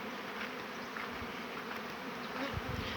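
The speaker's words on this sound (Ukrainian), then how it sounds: "Це так на соняшнику пасіка запрацювала." Honeybees swarm and buzz around hives at an apiary beside sunflower fields in the Poltava region, a dense continuous drone close to the microphone with occasional louder passes.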